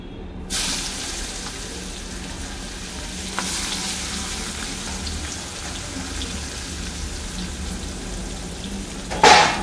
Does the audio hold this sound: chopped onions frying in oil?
yes